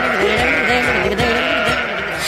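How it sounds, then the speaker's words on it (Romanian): A large flock of sheep bleats continuously in a Romanian radio drama, with many overlapping wavering calls close by forming a dense, loud chorus. "O turmă mare de oi."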